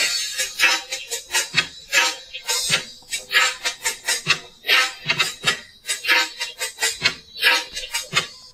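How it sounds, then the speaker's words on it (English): An isolated drum loop, separated from a full music mix by machine learning, plays a steady pattern of crisp, bright hits and snappy percussion in a repeating groove, with no other instruments. "right now what you're hearing is just a solo of the drums"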